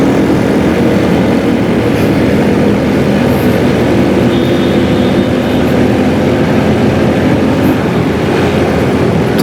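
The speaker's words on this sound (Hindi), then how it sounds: "थोड़ा सा मोटरसाइकिल तेज़ चला रहा" A motorcycle rides along a city road from Numaish Chowrangi to Baloch Colony Bridge, giving a loud, steady rush of engine and wind noise that never lets up and carries no talk.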